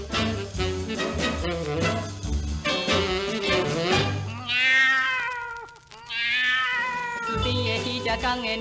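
Two cats caterwauling on a rooftop at night, loud drawn-out rising wails and meows set against a steady musical backing.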